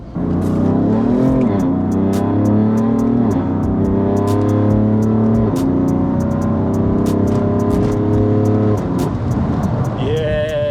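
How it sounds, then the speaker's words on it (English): A BMW M3 F80 with aftermarket exhaust and a tuned gearbox accelerates hard, its loud engine note rising in steady sweeps through several gear changes, close and sustained, with no talking over it. "The exhaust Sounds nice."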